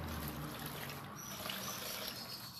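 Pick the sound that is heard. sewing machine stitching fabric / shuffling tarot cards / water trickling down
water trickling down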